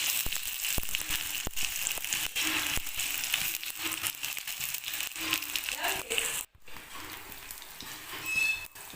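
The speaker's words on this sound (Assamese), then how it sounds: "তাৰপিছতে পিয়াজখিনি অকণমান ৰঙচুৱাকৈ ভাজি ল'ম" Onions frying in hot oil in a wok, a steady crackling sizzle with someone speaking over it and clinks of utensils.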